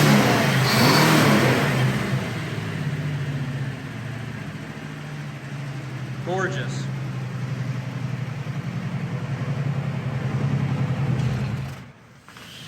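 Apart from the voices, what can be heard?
1955 Ford Crown Victoria restomod engine revving then idling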